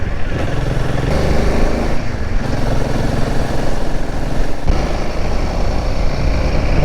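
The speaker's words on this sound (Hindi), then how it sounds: "कि मेन गेट तक बाइक जाएगी पूरी ऊपर तक।" A motorcycle engine drones loudly and steadily as the bike rides up the road to Thiksey Monastery in Ladakh. The close engine note changes slightly as the rider shifts, with some wind noise and faint voices underneath.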